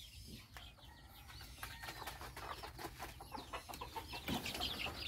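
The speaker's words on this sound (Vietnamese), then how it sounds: "đây là bầy gà con" A flock of baby chicks on a rural Vietnamese farm peeps and clucks in a busy, continuous chorus, with occasional wing flutters. It is close and steady throughout and gets slightly louder toward the end.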